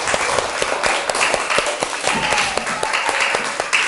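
Schoolchildren in a classroom clap for themselves, a quick scattered round of hand claps with a few sharper individual slaps standing out, moderately loud and fairly close.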